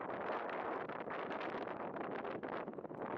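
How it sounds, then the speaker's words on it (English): Strong, gusting wind of about 80 km/h roars and buffets the microphone continuously on the open Bonneville salt flats, loud and unbroken for the whole stretch. "As you can probably hear, got like 80 kilometer an hour winds out there, snow off and on."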